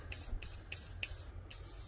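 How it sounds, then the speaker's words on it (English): Several short hissing bursts of a spray can of lubricating oil, evenly spaced about every third of a second, close up over a low background hum. "What we're going to do is spray some of the lubricating oil on here"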